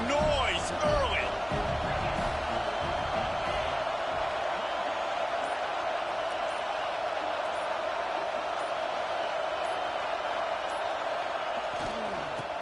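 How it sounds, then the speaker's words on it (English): Steady roar of a packed football stadium crowd at a USC vs OSU game. The noise stays dense and continuous for the whole stretch, with a few louder swells near the start. "This crowd bringing the energy and noise early."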